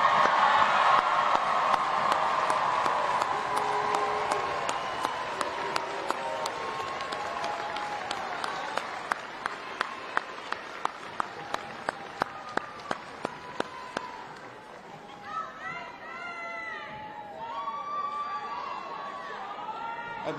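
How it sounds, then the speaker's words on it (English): A crowd at a high school commencement ceremony for graduates applauds in a long, loud wash of clapping that tapers into scattered claps, then gives way to murmuring chatter near the end. "One more round of applause for our graduates."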